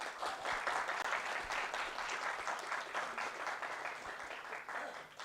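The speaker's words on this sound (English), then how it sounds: "Can you give a big round of applause for Group 2?" A large audience claps steadily for a group presentation at a digital health innovation session, dense and sustained applause at even loudness for over five seconds, with no voices above it.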